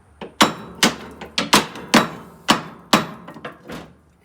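A hammer taps a metal rotor on a Polaris Ranger about ten times in an uneven rhythm, each hit sharp and ringing briefly, close by with no talking.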